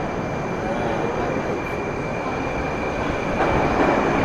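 A metro train rumbles loudly and steadily through Chertanovskaya station in southern Moscow, a broad roar with a faint high whine, swelling slightly near the end.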